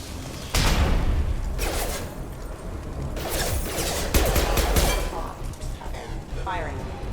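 Gunfire erupts in Mass Effect 2 during a firefight with closing security mechs: sharp, heavy shots and booming blasts over a dense, constant battle din, with a voice speaking briefly amid the noise.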